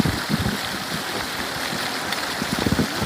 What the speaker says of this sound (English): So these are the Dancing Fountains in the middle of the park.